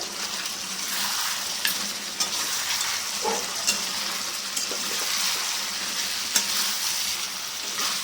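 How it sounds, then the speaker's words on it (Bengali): Mutton pieces fry and sizzle steadily in their own released oil over a raised gas flame, a continuous close crackle with occasional stirring scrapes, no voices. "আবার মাংসটাকে কষবো গ্যাসটাকে বাড়িয়ে দেবো"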